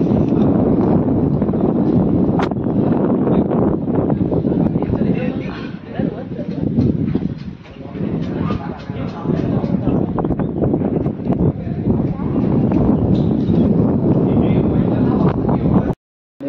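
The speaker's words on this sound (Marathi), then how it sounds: "वारं बिरो मस्त येतो, तुम्ही बघू शकता" Strong wind buffets the microphone at a hilltop coastal viewpoint in Ratnagiri, a continuous roaring gust noise with someone talking over it.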